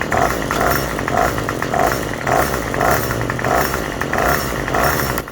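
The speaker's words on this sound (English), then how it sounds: "as I press the gas, it kind of chokes a little." A small two-stroke weedeater engine runs close by and hesitates under throttle, its buzzing whine rising and sagging in a regular surging rhythm, loud and alone.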